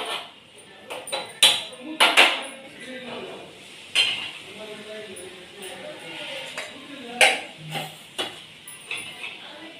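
A spoon stirs ground garlic paste into chopped dill, sorrel and spinach greens in a pan, with several sharp clinks and scrapes of utensil on metal scattered through the sound and someone talking over it.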